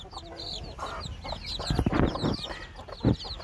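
Young chicks in a coop during winter cheep in a steady, overlapping chorus of high calls, with a few louder, lower clucks close by.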